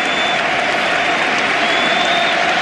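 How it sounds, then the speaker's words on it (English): A packed football stadium crowd applauds a Barcelona goal by Messi, a loud, steady wash of clapping and cheering filling the whole stretch without a break. "And the round of applause around this stadium as Messi bewitches, bothers and bewilders us"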